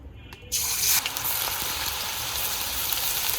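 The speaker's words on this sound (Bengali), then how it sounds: "আলু কুচিয়ে নিয়েছি, সেটা এখন ভাজবো" Thinly hand-cut potato matchsticks hit hot oil and burst into a loud, steady sizzle that starts abruptly and keeps hissing densely, close up, with no talking.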